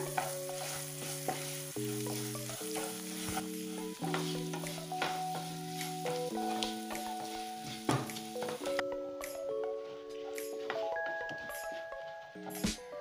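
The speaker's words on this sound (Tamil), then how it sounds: "கேஸ் ஆஃப் பண்ணிவிட்டு தேங்காய் ஆட் பண்ணணும் மிக்ஸ் பண்ணிவிடுங்க" Grated coconut being mixed into a hot pan mixture for thavala adai, with soft scraping and stirring strokes and occasional knocks against the pan, set under steady background music.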